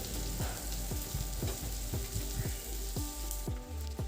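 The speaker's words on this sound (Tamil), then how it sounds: "வெங்காயம் நல்லா வதங்கி வரட்டும்." Onions sautéing with chilies and curry leaves for a white chana biryani, a steady pan sizzle with repeated stirring scrapes in an even rhythm, close and moderately loud, no talking.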